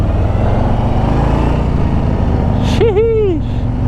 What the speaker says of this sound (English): I'm doing a first ride on 2021 Street Bob